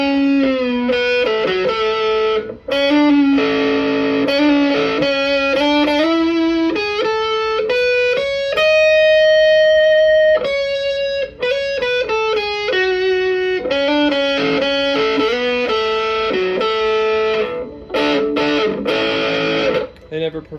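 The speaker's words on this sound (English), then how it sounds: "here's just a bit of example of the sustain. It doesn't gate like regular fuzz pedals do." An electric guitar runs through a BoredBrain Patchulator fuzz on a pedalboard, playing distorted sustained notes and chords that ring out long without gating, loud and up close with no talking.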